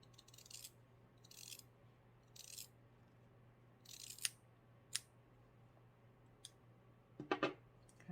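Scissors snip through a sock while it is cut into small paw and arm pieces for a handmade sock toy: a handful of short, crisp cuts spaced irregularly over quiet room tone, ending in a quick double snip.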